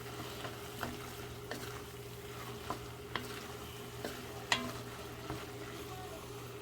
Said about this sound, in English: Just about a quarter of a cup of your pasta sauce, and give it a little spin here